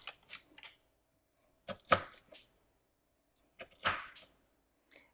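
A knife chops a piece of ginger for a brine. Sharp, crisp cuts come in two quick clusters separated by a quiet pause, with a lone tap at the end.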